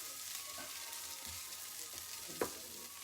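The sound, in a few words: onions, ginger and garlic sweating in a pan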